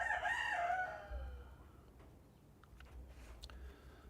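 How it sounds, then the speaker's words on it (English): A rooster crows once, loud and fairly close, its call rising and then trailing off into quiet background ambience. "Very happy little rooster friend of mine."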